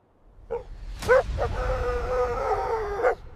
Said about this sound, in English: Then a dog barks violently at the cliffside graveyard.